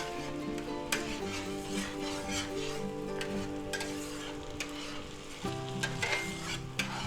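Minced garlic sizzles steadily in melted butter in a pan, a continuous crackling fry with occasional stirring scrapes, close and moderately loud with no talking.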